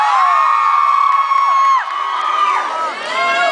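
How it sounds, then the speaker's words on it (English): A concert crowd at a show at The Glasshouse screams loudly and continuously, high-pitched shrieks and whoops from many fans filling the room with a sustained roar. "probably wasn't worth it to scream that loud"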